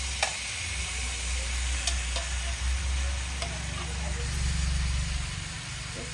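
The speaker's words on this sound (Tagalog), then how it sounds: "Iprito-prito din natin itong pork." Pork frying in a pan for sinigang, a steady close sizzle with occasional scrapes and clinks of stirring, continuous and moderately loud against a low background hum.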